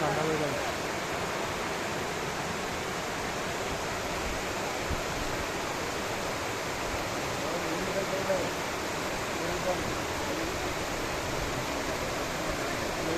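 Water at Kanakatte lake rushes in a steady, dense roar that stays even and close throughout, with no clear breaks.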